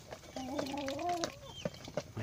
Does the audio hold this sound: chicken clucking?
yes